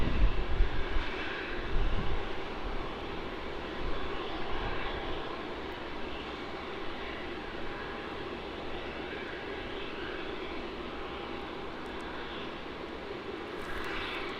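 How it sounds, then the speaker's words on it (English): A Virgin Australia airliner departs Melbourne Airport for Cairns, its jet roar loudest at the start and then easing into a steadier, slowly fading rumble with a faint whine on top, and no one speaking. "departing now, we have the Virgin Australia flight VA 1291"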